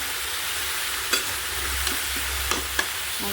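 Vegetable bhaji with onion and green chillies sizzling in a pan, a steady hiss of frying broken by a few soft scrapes and clinks of stirring, no voices.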